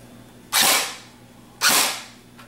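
An airsoft G36 rifle fires on semi-automatic, two sharp, loud bursty shots about a second apart, each with a short hissing decay, plus a faint click at the end.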